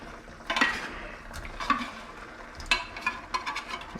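Tuna being stirred into a hot pan of sauce for tuna mornay: a spoon scrapes and taps the pan in a few irregular bursts over a soft, steady background sizzle, close and fairly quiet.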